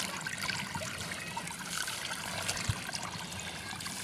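Water runs steadily through a small channel, a continuous trickling and gurgling flow with no speech over it.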